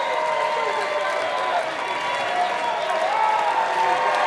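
Crowd at a live VCW wrestling show in Alexandria applauds and cheers for a former champion, a sustained roar of clapping with voices and tonal shouts mixed through it.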